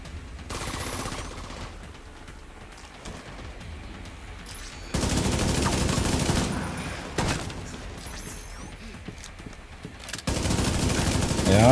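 Enemy shotgun fire in The Division 2 mixes into a dense gunfight, with rapid bursts and loud reports over continuous battle noise that surges in waves and never settles.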